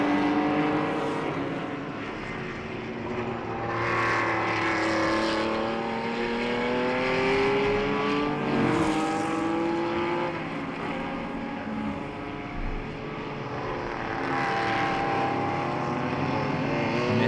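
A Ford GT350 race car runs at a classic racing event on the Jarama circuit, its engine note rising and falling through gear changes as other cars pass, loud and continuous throughout.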